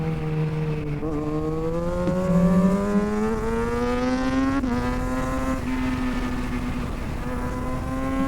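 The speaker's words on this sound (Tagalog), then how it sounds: "May tricycle, may tricycle." A motorized tricycle's engine drones past on a sandy road, its pitch climbing steadily as it nears and revs, a continuous buzzing whine heard close with no talk over it.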